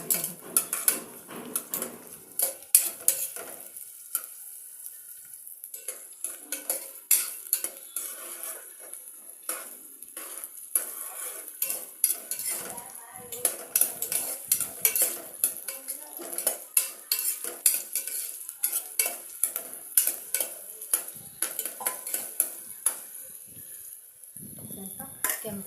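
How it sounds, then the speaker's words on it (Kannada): Onions stirred in hot oil in a pan, with a soft steady sizzle beneath frequent clinks and scrapes of a metal spoon against the vessel, close and continuous. "ಎಣ್ಣೆ ಬಿಸಿ ಆಗೈತೆ, ಅದಕ್ಕೆ ನಾನು ಈರುಳ್ಳಿನ ಹಾಕ್ತಾಯಿದ್ದೀನಿ."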